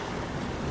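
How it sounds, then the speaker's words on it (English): A big ocean wave crashes against a sailboat during an overnight passage at sea, a loud, dense wash of water and wind roaring continuously and close. "Big wave, babe."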